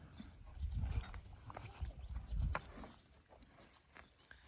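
A working mare walks at a steady pace, her hooves clip-clopping in an uneven run of close, dull thuds over low background rumble.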